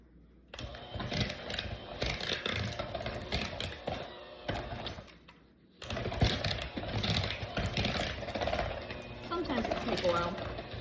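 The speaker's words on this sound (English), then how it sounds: "we're just gonna mix this up until it's all nice and creamy" An electric mixer whirs through softened cream cheese and sugar for cheesecake batter, a close, busy mechanical drone with a brief pause partway before starting up again.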